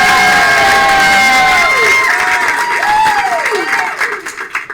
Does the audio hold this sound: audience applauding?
yes